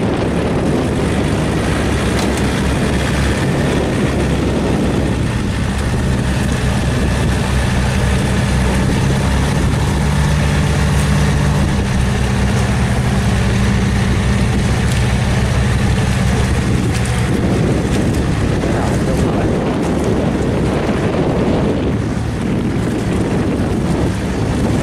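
A tractor stuck deep in mud roars with a loud, continuous engine strain that rises and shifts as it labours, accompanied by steady rushing wind noise across the whole stretch, with no voices.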